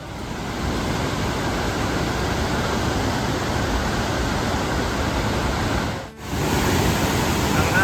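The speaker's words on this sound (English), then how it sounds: "one of the trails leads you right to the High Falls, which is another beautiful waterfall" High Falls waterfall on northern Lake Superior roars as a dense, steady broadband rush, loud and constant, with a brief dip near the end before the full roar returns.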